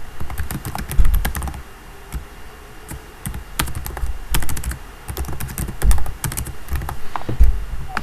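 A domain name being typed on a computer keyboard, with quick uneven bursts of close clicking keystrokes broken by short pauses, and no talking.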